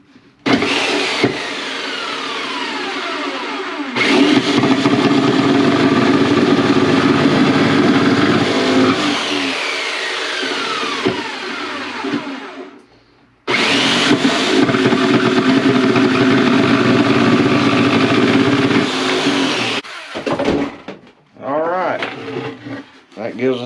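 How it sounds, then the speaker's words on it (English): A circular skill saw cuts into wood to notch a mink box, two long, loud whining cuts separated by a short pause, followed by quieter handling noises and a voice talking near the end. "We'll take our skill saw, just take this out so it'll make a indentation like that. Okay, run this right on in."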